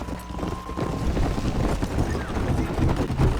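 A horse gallops in a horse race in the video game Red Dead Redemption, its hooves drumming in a quick, steady rhythm close by, with game voices and speech over the hoofbeats.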